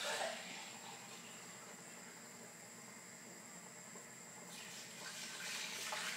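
Water, 1.5 litres, poured into a pot of vegetables for a Chinese chicken soup, a continuous close splashing gush that holds steady and swells near the end, with no voices.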